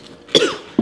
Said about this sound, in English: cough fest